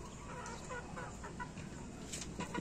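A mother hen clucking while being fed, giving short, close clucks in an uneven rhythm over outdoor farmyard background, with no talk.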